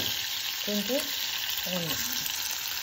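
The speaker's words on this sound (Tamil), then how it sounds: "பச்சை மிளகாய் கொஞ்சம் வதக்கிட்டு" Garlic and green chilies sautéing in a pan for beans usili, a steady close sizzle running throughout with brief voice fragments over it.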